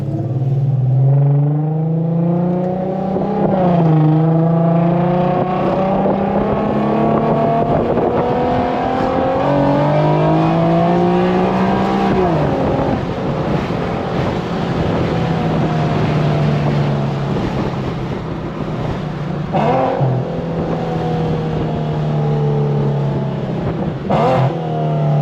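A tuned Infiniti Q50 running a popcorn map, close engine drone rising through the gears with rev sweeps, then downshifts that bring sharp pops and crackles, with no talking.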